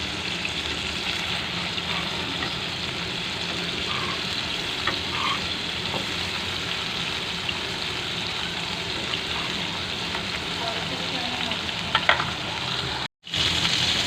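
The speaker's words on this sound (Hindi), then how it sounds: "अब ये फ्राई हो रहे हैं" Raw minced-meat kebabs fry in hot oil with a steady, dense sizzle that carries evenly throughout, close and continuous, with a few faint clinks and a brief dropout near the end.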